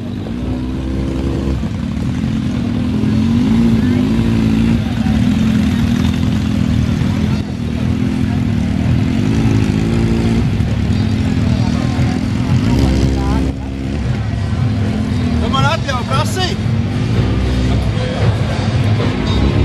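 Motorcycle engines drone steadily and loudly at a JAWA motorcycle season-closing gathering in Malpils, a dense continuous rumble throughout, with faint voices mixed in beneath.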